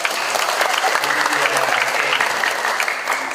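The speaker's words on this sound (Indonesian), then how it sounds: "Wah, keren. Tepuk tangan ini buat" Audience clapping at a children's reading-movement event, a dense steady burst of applause from a crowd filling the room, with faint voices underneath.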